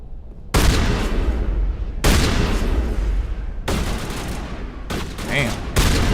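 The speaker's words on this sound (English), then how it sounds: "Thank God for shotguns, baby." Heavy shotgun blasts in Mass Effect boom out one after another, four or five loud, broad bursts each trailing off into rumbling decay.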